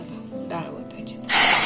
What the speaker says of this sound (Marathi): मस्त चरका लागला डाळीला.